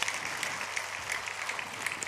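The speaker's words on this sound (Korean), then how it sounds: "우리 박수 한번 할까요?" A church congregation clapping during a Sunday worship service, a soft, even spread of many hands applauding together for a couple of seconds, somewhat distant and quiet.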